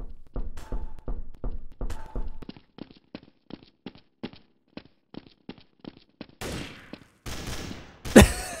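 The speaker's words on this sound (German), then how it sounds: "Da wird geschossen." Gunfire in Garry's Mod Trouble in Terrorist Town opens as a rapid burst, then slows into a string of evenly spaced single shots, and ends with a few louder, harsher blasts.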